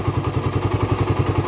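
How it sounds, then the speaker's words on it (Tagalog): A hot Honda Raider 150 motorcycle engine with a carburettor idles with a fast, steady mechanical ticking from the head, a close, even clatter repeating rapidly over the engine's low hum. "kung mainit na yung makina niya, ayan, ganyan na siya, lumalagitik na siya ng ganyan"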